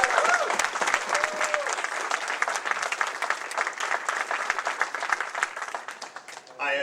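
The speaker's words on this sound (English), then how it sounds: "would you join me in a loud, rousing round of applause for the commanding officer of HT-28" An audience at a Navy aviator winging ceremony in Pensacola gives a loud, sustained round of clapping for a helicopter training squadron's commanding officer, crisp individual claps within a continuous ovation that dips slightly before the end.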